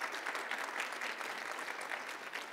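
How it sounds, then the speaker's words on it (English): A round of applause from a conference audience at a democracy event, even sustained clapping filling the hall for a couple of seconds with no voices over it. "Let's give him a round of applause."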